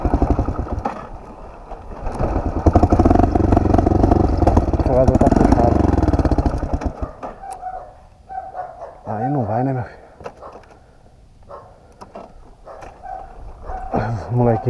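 A motorcycle engine revs and labours along a dirt trail, loud and close for several seconds, then fades while people talk and shout nearby with short bursts of engine returning.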